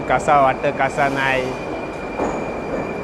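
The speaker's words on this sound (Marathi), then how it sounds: "तर ही आली आपली मेट्रो" A metro train pulls into a station in Uzbekistan, its low rolling rumble and a steady high whine carrying on as a voice speaks briefly over it.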